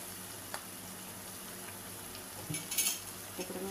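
Tomatoes and onions frying with turmeric and salt in a pan, giving a quiet, steady sizzle with a few stirring clinks near the end.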